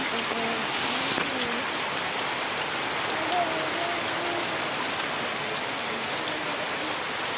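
Steady rain falls in a village, heard from a doorway as a constant soft hiss of drops on surfaces, with faint voices murmuring underneath.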